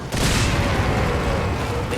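Grenade explosion in the video game Resident Evil 4, a sudden heavy blast followed by a sustained rumbling roar and debris-like crackle filling the rest of the moment.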